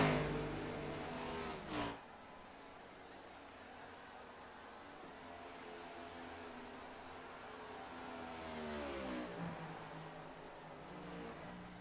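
A race car engine at a Charlotte oval racing event holds a steady drone, briefly swelling and then easing as the driver lifts off the throttle in a corner, heard from a distance.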